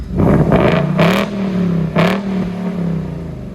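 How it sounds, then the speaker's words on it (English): A Ford Fox-body Cobra with a 347 engine revs up twice in quick bursts, rising and falling, over a steady loud idle. "Give it a couple revs."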